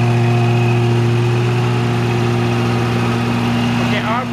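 A Prowler 20 LP machine's engine runs at a steady idle, a loud continuous droning hum with strong low tones held throughout, easing slightly right at the end.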